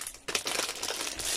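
Crinkling of plastic foil packaging from a diamond painting kit, a brief close burst of crackly rustling as the wrap is handled.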